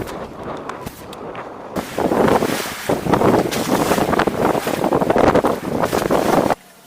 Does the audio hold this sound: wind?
yes